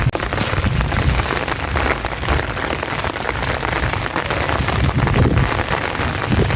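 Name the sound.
heavy rain falling on a farm during a storm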